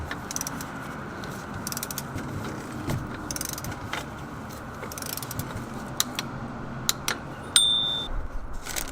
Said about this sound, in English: go ahead and grab your torque wrench and tighten it to 18 foot-pounds.